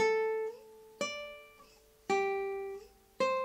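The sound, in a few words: guitar playing étude melody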